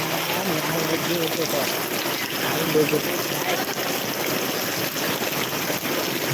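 Heavy monsoon rain pours down over a Gujarat village in a dense, steady hiss of falling water that continues without a break, with faint voices under it.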